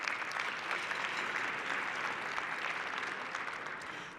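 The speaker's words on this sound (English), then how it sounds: "Round of applause" Sustained audience applause at a satellite industry awards luncheon, a steady dense wash of many hands clapping that holds evenly for about four seconds at moderate level and tapers slightly at the end.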